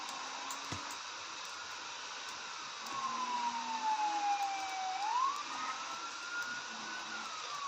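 A police siren in the Roblox video game wails in the distance, its pitch sliding down and then back up over a steady mechanical hum, with no voices.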